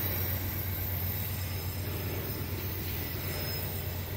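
An empty VLi freight train labours up the steep Serra do Mar grade, giving a dense, continuous rumble of wheels and engine with a faint high rail squeal, close and steady with no pauses.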